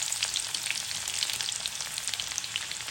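Dried red chillies and chopped garlic fry in hot oil for a long bean stir-fry, giving a steady, close, dense sizzle with scattered crackling pops throughout and no voices.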